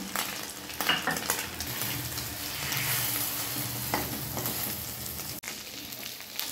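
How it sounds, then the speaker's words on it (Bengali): Chicken snacks sizzle steadily in hot oil over a low flame, a continuous close frying hiss with occasional stirring and turning scrapes, no voices. "ভাজার সময় আমি লো ফ্লেমে গ্যাস রেখে ভাজবো"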